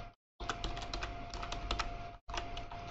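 Quiet, rapid clicking of computer keys as someone types a terminal command, two bursts of irregular keystrokes separated by short silent gaps, close to the microphone.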